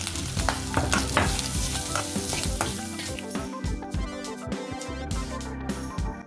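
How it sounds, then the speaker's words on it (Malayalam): Crushed spice paste sizzling and being stirred in a hot pan with mustard seeds for banana flower thoran, a steady loud fry with scraping strokes that ease off toward the end. "അതിലേക്ക് ചതച്ചു വെച്ച അരപ്പ് ഇട്ട് പച്ചമണം മാറുന്നത് വരെ വഴറ്റുക."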